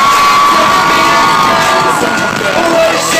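A Minnesota concert crowd at a show screams and cheers loudly and continuously, with a dense wall of high-pitched shouting filling the whole moment.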